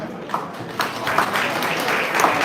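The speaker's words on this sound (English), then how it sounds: "a final round of applause to our honorees" A gala audience at an awards summit applauds its honorees, a steady wash of clapping with a few sharper bursts, fairly loud and sustained across the room.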